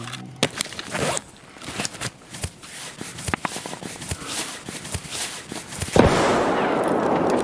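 Gunfire in the shooter game Escape from Tarkov, sharp scattered shots and bursts popping irregularly at mixed distances, some loud and close, followed by a sustained noisy rush near the end.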